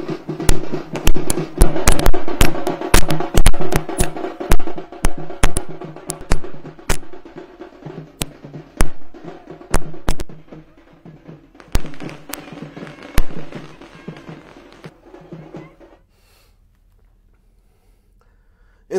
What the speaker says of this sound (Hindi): इंदौर के बीजेपी कार्यालय में जश्न हुआ, आतिशबाजी की गई